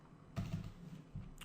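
Someone types on a computer keyboard, entering code: two short bursts of close keystrokes with a brief pause between, quiet and alone.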